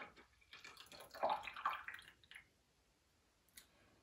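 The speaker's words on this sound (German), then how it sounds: "wir nehmen hier einmal den Saft aus zwei frisch gepressten Zitronen," Freshly squeezed juice of two lemons is poured into a container, making a soft splashing trickle that lasts about a second. Quiet follows, broken by a faint click.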